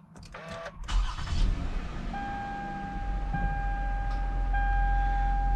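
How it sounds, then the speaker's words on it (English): A 2007 Toyota Camry XLE with a 3.5 liter engine cranks briefly and starts, settling into a smooth steady idle while dashboard warning chimes ring as sustained tones over it. "I'm going to start up the vehicle."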